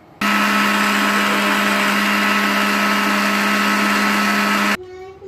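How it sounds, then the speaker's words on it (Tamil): A mixer grinder blends pistachio ice cream mixture, whirring loudly and steadily for about four and a half seconds, then cuts off abruptly, leaving a brief quieter hum. "இப்போ இதை வந்து நல்லா ஸ்மூத்தாக கிரைண்ட் பண்ணி எடுத்துக்கலாம்."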